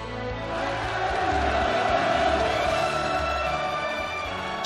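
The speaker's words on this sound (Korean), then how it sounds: "김정은 동지께서 도착하시자 우렁찬 만세 환호성이 하늘 땅을 진감했습니다" A large crowd at the inauguration ceremony of the Central Cadre School of the Workers' Party of Korea cheers and shouts hurrahs on Kim Jong Un's arrival, a dense, sustained roar of many voices lasting throughout at steady loudness.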